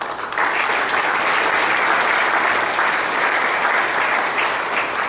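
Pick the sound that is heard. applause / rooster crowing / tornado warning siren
applause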